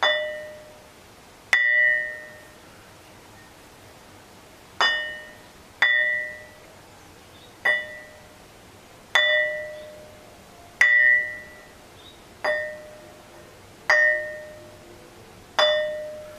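A ringing stone of metamorphosed quartzite is struck repeatedly by hand, about ten sharp bell-like tones at irregular intervals, each ringing out and decaying quickly, close and alone.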